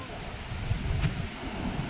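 Seaside wind at the Nageshwar Jyotirlinga temple near Dwarka, heard as a faint, steady rushing buffet against the microphone with no clear break.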